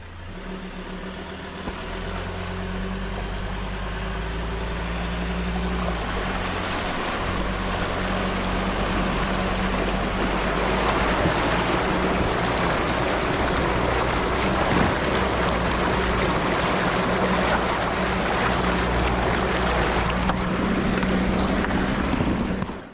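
A Ford Ranger 4WD with a 2-inch lift and 32-inch tyres drives through the deep El Questro water crossing. The engine drones steadily under a continuous wash and surge of churning water that builds and holds loud for over twenty seconds before cutting off.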